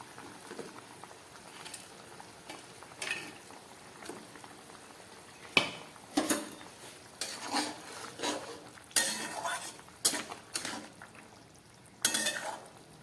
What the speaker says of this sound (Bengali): এবার এই ভেজে রাখা বড়াগুলো দিয়ে দেব ছোলা মটর আর পনির দিয়ে যে বড়াটা করেছিলাম সেগুলো দিয়ে দিচ্ছি